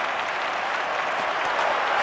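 A stadium crowd at an athletics jumping event applauds, a dense, steady wash of clapping at a distance for about two seconds, with no other sounds standing out.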